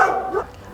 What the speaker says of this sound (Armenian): Հիմա 14 շուն է պահում, որոնց հաչոցով է տարբերում։